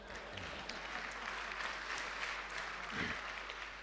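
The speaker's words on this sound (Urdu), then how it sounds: "ویسے تالی بجانے پہ کوئی پابندی نہیں ہے." Audience clapping at an Urdu mushaira poetry gathering in Doha, a fairly faint, steady patter of many hands that holds evenly throughout at a distance.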